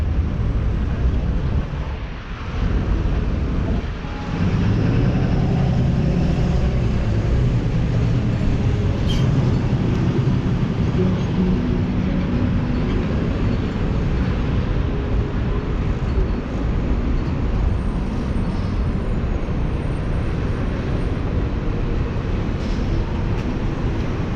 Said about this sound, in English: And the Up Express is here.